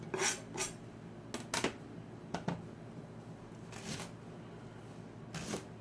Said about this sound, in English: so you just dump your onions in.